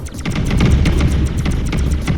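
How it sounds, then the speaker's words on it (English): Rapid crackling bursts and dull booms from shooting rocks in the Asteroids Millennium video game, a dense, continuous barrage like fireworks that keeps a steady loud level for the whole stretch. "I love the sound effects when you shoot the rocks."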